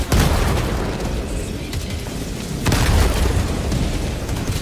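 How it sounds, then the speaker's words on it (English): Heavy booming explosions from autocannon fire in the video game Helldivers 2 roll out in two big blasts, one at the start and another near three seconds, with rumbling decay in between. "Auto cannon just obliterated an ATST."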